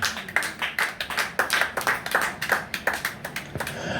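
A church congregation claps in quick, rhythmic unison to acclaim Jesus during a sermon, a close and steady run of sharp hand claps lasting throughout.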